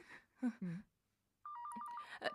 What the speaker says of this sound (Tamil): ஃபோன் அடிக்குது